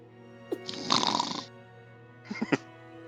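Someone at a Dungeons and Dragons game table imitates snoring with their voice: a short snort, then a longer rasping snore and a second shorter one, close and fairly quiet.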